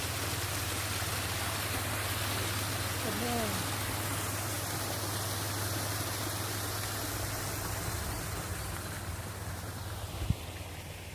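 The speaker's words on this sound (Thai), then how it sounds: "ก็จะเป็นน้ำนะคะ น้ำไหลตกมานะคะเพื่อนๆ" Water flows and falls along a stream in a garden, a steady close wash of noise that runs without break, with someone speaking briefly over it.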